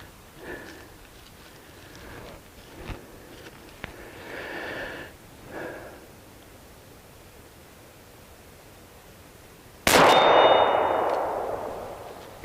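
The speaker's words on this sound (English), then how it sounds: "Beretta Nano 9mm. Let's shoot it at 40 yards." Beretta Nano 9mm pistol fired at a target 40 yards away: a single sharp, loud shot that rings out and trails off, after several seconds of faint outdoor ambience with a few soft metallic clangs.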